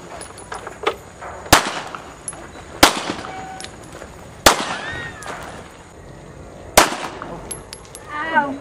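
Single gunshots at a shooting session, five or six sharp loud cracks spaced a second or two apart, each with a brief ringing tail, with faint voices in between.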